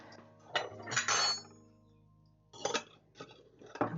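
A few glass clinks and knocks sound in short separate bursts, close by and fairly quiet, with brief pauses between them.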